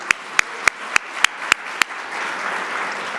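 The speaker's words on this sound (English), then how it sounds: "And one more round of applause for Juan." Audience applause at a political event, opening with a run of loud, evenly spaced claps close by, then settling into a softer, diffuse wash of clapping.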